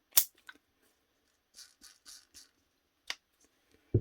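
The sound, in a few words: drill gears clicking together during reassembly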